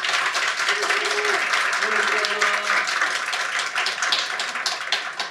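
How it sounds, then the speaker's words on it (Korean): An indoor audience applauds to welcome guests at a teachers' campaign event, dense steady clapping throughout, close and loud. "저희 박수로 환영하겠습니다"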